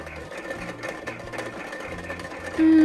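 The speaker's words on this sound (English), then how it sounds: "Oh, a washing machine." A toy washing machine runs with a steady, rhythmic mechanical whirring and clicking, ending in a loud sustained electronic hum or tone near the close.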